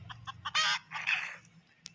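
A chicken in the Wildcraft Animal Simulator video game gives a quick run of short, close clucks, with two louder squawking bursts in the middle and a sharp click near the end.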